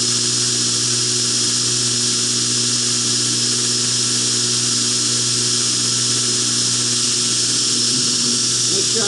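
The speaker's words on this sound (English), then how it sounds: "Grinding nicely for being hardened." A belt grinder works a hardened carbon steel knife blade, holding a steady, continuous loud whine throughout with no pauses.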